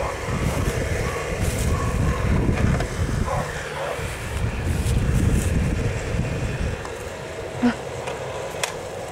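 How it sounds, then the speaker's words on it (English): Steady wind buffeting the microphone outdoors, a continuous rumbling roar with faint background sounds throughout. "It's a little windy outside."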